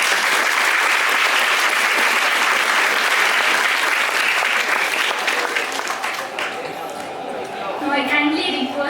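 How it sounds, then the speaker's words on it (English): Dense, loud audience applause fills a college hall after a motivational talk, holding steady for about six seconds before thinning out as a tonal sound takes over near the end. "Give a big round of applause."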